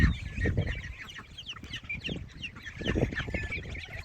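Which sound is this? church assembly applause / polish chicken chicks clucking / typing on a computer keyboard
polish chicken chicks clucking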